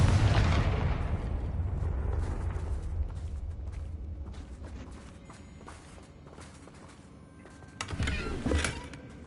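A Confringo fire spell explodes in the Hogwarts video game, a heavy close boom that opens the moment and rumbles away over several seconds, followed by a second smaller blast near the end.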